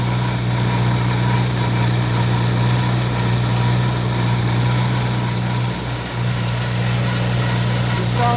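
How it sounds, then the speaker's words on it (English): An old Farmall Cub tractor engine chugs at a steady idle, a loud, continuous low rumble that holds evenly throughout. "Little Matthias sometimes just gets put to sleep by these old tractors."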